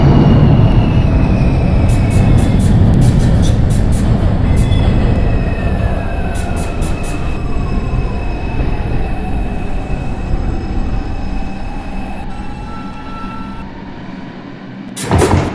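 A New York City subway R142 train on the 6 express rumbles along steadily and loudly in the OpenBVE simulator, with wheels squealing and clicking rhythmically over the rails throughout.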